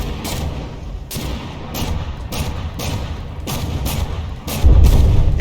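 Battleship cannons fire during a naval tournament battle in the video game From the Depths, a series of about eight loud, sharp booms at irregular intervals, ending in a heavier rumbling blast.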